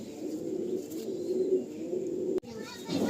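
Pigeons coo in a home loft in West Bengal, low soft murmuring that goes on throughout at moderate distance, with a brief break near the end.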